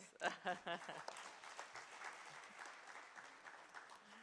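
Applause at an AI governance conference closing session opens with a short burst of clapping right after a voice, then thins into fainter scattered claps beneath quiet background talk.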